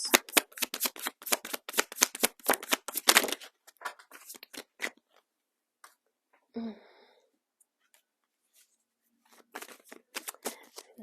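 Tarot cards are shuffled in rapid, crisp riffling bursts for a few seconds, followed by scattered softer card handling and brief quiet gaps, then a few more snaps of cards close by.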